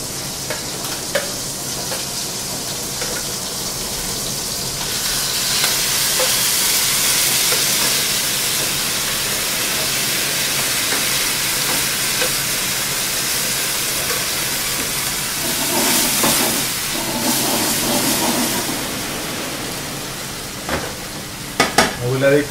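Whole peeled tomatoes cooking in a pan for spaghetti with meatballs, giving a steady sizzle and hiss with occasional stirring clatter, continuous and close, swelling briefly in the middle and toward the end.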